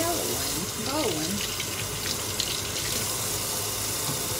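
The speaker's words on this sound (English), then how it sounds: "I'm just going to rinse them off real quick." Tap water runs steadily into a kitchen sink while bell peppers are rinsed under it, a continuous close gushing hiss. A person speaks briefly over the water near the start.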